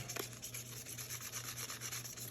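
Sandpaper roughs up the surface of a Raven centerpiece craft piece before painting, a quiet continuous scratchy rubbing in quick back-and-forth strokes, close and alone.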